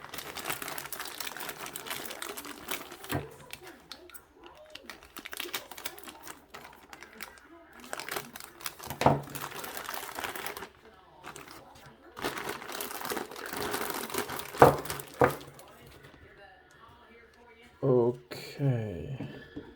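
Plastic packaging around a set of 3-inch woolen buffing pads is cut and pulled open, giving irregular close crinkles, snips and rustles in scattered bursts, with a voice talking intermittently.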